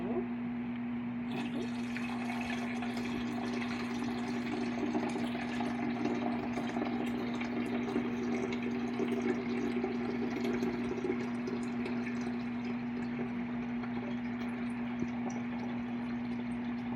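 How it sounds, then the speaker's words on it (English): Tap water runs steadily into a coffee maker carafe, a continuous close splashing stream over a constant low hum. "And now I'm going to fill it with water for my iced tea."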